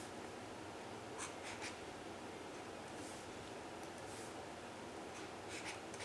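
Pen writing an answer on paper while solving a test paper, a steady close scratching with faint rhythmic strokes over constant background noise, no talking.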